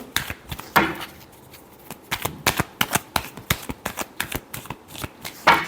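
Tarot cards are shuffled close up in a quick run of crisp riffles and slaps that come in uneven bursts.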